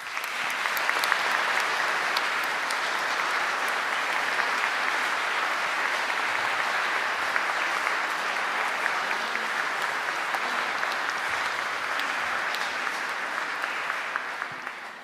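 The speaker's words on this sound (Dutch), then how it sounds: "En je verdient een hartelijk applaus." Sustained, dense applause from a concert audience at a Christmas benefit concert for Ukraine, an even wash of many hands clapping that holds steady for about fifteen seconds before easing slightly at the end.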